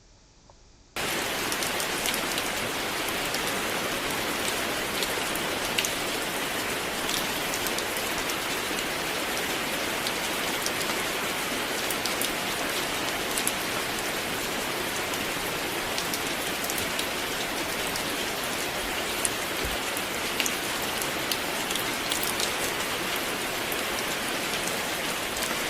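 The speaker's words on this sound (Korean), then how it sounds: "비가 많이 오는 계절이라 빗소리를 한번 녹음을 해보겠습니다" Steady rain falls for the whole stretch, a dense, even patter of drops striking surfaces nearby. No voices are heard.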